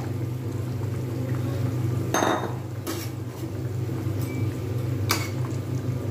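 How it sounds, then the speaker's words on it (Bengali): Rohu fish curry with radish and potato simmers in a pot with a low, steady bubbling hum, broken by a few sharp clinks of utensils against the pot. "জাস্ট 1 মিনিট ফুটিয়ে একটু স্ট্যান্ডিং টাইম দিয়ে সার্ভ করে দেখাচ্ছি কীরকম হয়েছে।"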